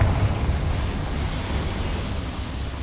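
A Confringo fire spell blast erupts in Hogwarts Legacy, a loud, rumbling roar of broadband noise that holds steady for about three seconds, with no talking.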